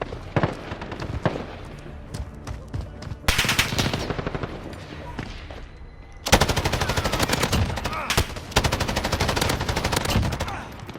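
An M249 SAW light machine gun in the video game Call of Duty Modern Warfare fires in long, rapid sustained bursts, loud and close, with short pauses between strings of shots and scattered distant gunfire from bots.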